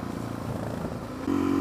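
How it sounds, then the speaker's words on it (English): A motorcycle engine hums steadily while the rider shifts down a gear, and the drone jumps to a higher, louder pitch near the end as the engine braking slows the bike. "Now if I go down a gear, I'm being slowed down."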